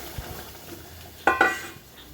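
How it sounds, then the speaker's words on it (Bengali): Vegetables are tossed into a pan of garlic already fried, with a soft background sizzle and two sharp metallic clanks of utensil on pan near the middle, close by and without speech. "এবার সমস্ত সবজিটা দিয়ে আমি সাঁতলে দিলাম"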